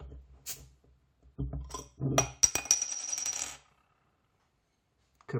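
A metal bottle opener pries the cap off a bottle of unfiltered Norwegian Nøgne Ø pale ale, giving close metallic clinks and a brief ringing rattle, followed by near silence.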